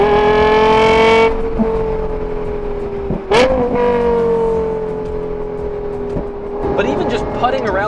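A rare Lexus, one of 64 built, fitted with the Nurburgring package, revs hard through the gears. A loud, high, sustained engine wail holds steady, is broken by a sharp crack at a shift midway, then resumes and rises again near the end.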